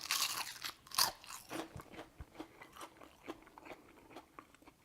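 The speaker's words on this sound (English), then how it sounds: "they literally crunch just like a potato chip" Someone bites into light, crispy beer-battered onion rings, a loud initial crunch followed by a steady run of quieter chewing crunches, close and alone.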